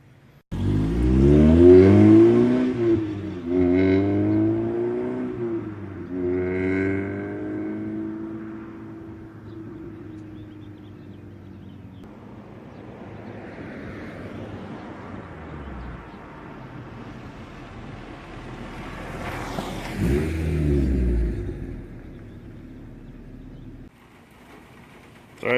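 A 1999 Honda Civic Si with a new rear motor mount drives and accelerates, engine revving up through several rising gear pulls, then settling into a steady cruise with a brief surge near the end.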